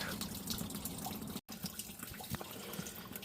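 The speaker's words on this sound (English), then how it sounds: "all you have to do is put water in the bottom and swoosh them around to get them out" Water sloshed around inside drinking tumblers to rinse them, a steady close swishing and splashing that runs continuously with small drips, with no talk over it.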